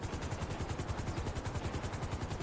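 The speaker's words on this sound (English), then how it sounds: "Once the helicopter is landing, you head on over to your luxury helicopter." Loud, close helicopter rotor chopping in a fast, even rhythm over a dense engine whine, continuous throughout, as a luxury helicopter lands in GTA V Online.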